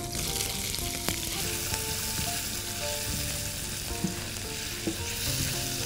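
Garlic and sliced onion fry in a pan with a steady, close sizzle, broken by a few light clinks and scrapes of a utensil.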